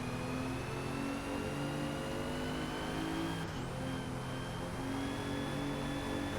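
Steady, sustained engine drone from a 2017 Alfa Romeo Giulia in Forza Motorsport at Hakone, holding a constant pitch with a slight shift midway. It is fairly quiet and unbroken, with no talk over it.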